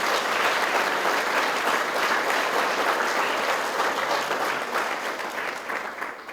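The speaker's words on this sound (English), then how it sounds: "would my colleagues give a round of applause to the organizing committee?" An audience at a sports wall of fame ceremony in a civic centre applauds the organizing committee with dense, steady clapping that holds strong for about six seconds before tapering slightly at the end.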